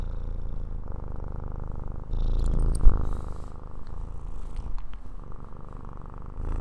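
Bongo the cat purrs steadily and close, a continuous low rumble with a few faint rustles and a soft bump partway through, no voices over it.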